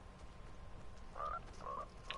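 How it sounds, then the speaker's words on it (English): A frog in the video game Fortnite croaks twice, two short throaty calls about half a second apart, quiet and somewhat distant over a soft, steady game ambience. "La rana es su amigo."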